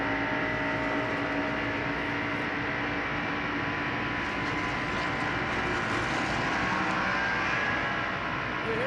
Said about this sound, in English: You hear Mark Martin's car sputtering there on the in-car camera and microphone